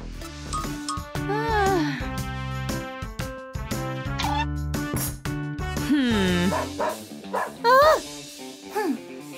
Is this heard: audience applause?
no